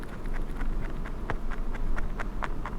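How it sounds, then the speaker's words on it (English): A pet rabbit or guinea pig crunches on hay nearby, giving a steady run of soft, dry crackling bites, each one short and brittle, over a low background hum. "If you hear a crunching in the background, Louis is really enjoying his hay at the moment"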